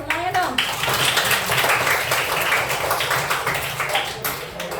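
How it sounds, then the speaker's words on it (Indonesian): Fourth-grade students clap together in a classroom, a brisk crowded burst of hand claps that runs steadily for several seconds with voices mixed in. "Tepuk tangan dong buat semuanya dong."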